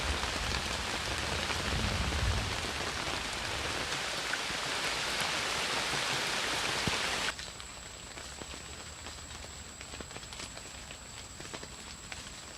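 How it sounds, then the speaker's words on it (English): A heavy rain squall hisses loudly and densely across the surface of a pond outdoors, then abruptly drops to a much quieter, lighter patter of drizzle. "As the heavy squall softens to a light drizzle, the pond settles back into a calm mirror."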